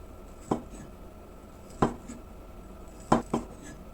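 A knife chops ingredients for a Thai herbal stewed dish, four sharp strikes falling in two pairs, close and fairly loud over quiet background.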